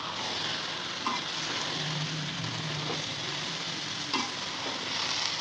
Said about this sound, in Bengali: এবার হচ্ছে যে আলুগুলো দিয়ে দেবো, এগুলো দিয়ে একটু ভালো করে কষাবো